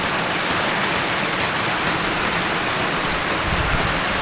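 Steady rain falls during the rainy season in Sepon, a dense and even hiss that stays loud and unbroken throughout, with no voices.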